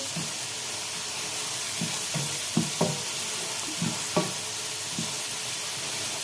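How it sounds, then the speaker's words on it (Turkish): Garlic sizzles in a hot pan with a steady hiss, while a spoon stirs it with several light clinks and scrapes spaced irregularly. The sound is close and moderately loud, with no talk. "Sarımsaklar ilave ediyorum."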